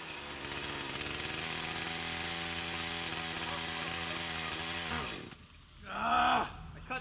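A chainsaw cuts into a tree, its engine roaring loud and steady for about five seconds, then cutting out as the chain binds in the kerf, followed by a brief revving burst.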